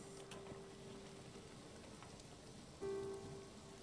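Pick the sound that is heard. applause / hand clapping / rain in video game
rain in video game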